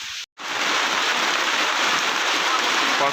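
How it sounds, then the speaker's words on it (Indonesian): Steady rain falling on a mountain trail on Mount Slamet, Indonesia, a loud continuous hiss of drops that fills the clip after a brief silent gap at the start. "Wah, cuaca hujan."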